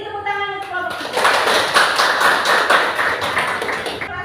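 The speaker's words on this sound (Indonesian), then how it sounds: "Beri tepuk tangan untuk kelompok" A school class claps for the best-performing group after presentations, a dense burst of hand claps starting about a second in and holding steady until near the end, with a voice speaking just before it begins.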